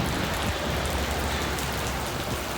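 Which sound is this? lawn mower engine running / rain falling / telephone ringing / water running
rain falling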